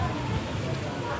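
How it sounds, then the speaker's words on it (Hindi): Rain falls steadily at a middle school in Mardan, Pakistan, an even pattering wash with no gaps, fairly close and moderately loud. "दा बारान शुरू दे"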